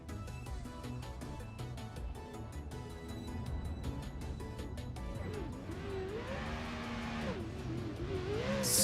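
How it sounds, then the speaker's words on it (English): Drift cars on track at Road Atlanta rev and whine during qualifying, rising and falling in pitch, with a steady rumble building to a loud roar at the end. "That's where we get to hear these cars really rip."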